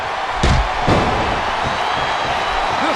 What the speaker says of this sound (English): they do a pretty good job of making themselves heard, but with those boos instead of cheers now